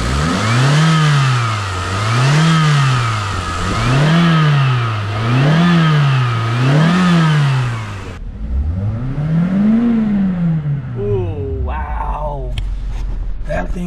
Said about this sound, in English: And listen to this motor